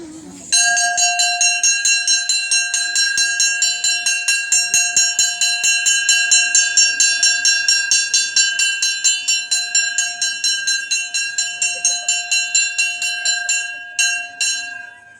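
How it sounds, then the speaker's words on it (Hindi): Electric bell ringing continuously for about fourteen seconds, a loud rapid metallic clatter with steady ringing tones that stops abruptly near the end. "आप लोग अपने घरों में इस घंटी की आवाज सुनते होंगे, सुनते हैं? ये 5 मिनट पहले बजती है"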